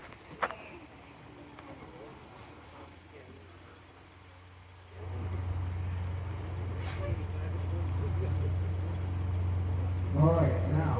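A vintage bus from Bangor, Maine, number 8105, rolls past in a trolley museum parade, its engine rising to a steady loud low rumble at about five seconds and holding near, with crowd chatter and a brief knock beforehand.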